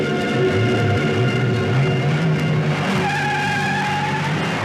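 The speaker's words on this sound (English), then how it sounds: "On his bike, he lights a ciggy and rides away." A motorbike ridden away in the Italian Spiderman parody: a loud, steady engine drone with a rising, squealing tone, close and continuous throughout.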